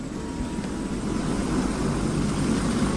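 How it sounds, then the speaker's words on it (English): A military helicopter taking off at a military base, heard as a loud, steady, broadband engine and rotor roar that grows slightly stronger over three seconds, with no talk. "Look, a military helicopter takes off."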